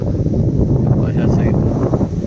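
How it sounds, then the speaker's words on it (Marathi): Gusty wind buffeting the microphone in a steady low roar, with a voice talking over it. "वाराचा आवाज बी येत असेल मित्रांनो तुम्हाला"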